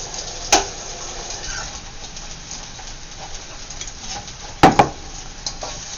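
A spoon scrapes and clinks against a pan while dishing up shrimp fried rice, with one sharp knock early and a close double clatter near the end over quiet kitchen background.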